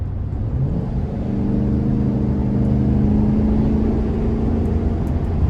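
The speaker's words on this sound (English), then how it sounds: "Just gonna give it a little throttle here." Chevrolet Express 2500 conversion van engine with a K&N air filter revving under light throttle, a steady loud droning rumble with a rising hum that holds for several seconds.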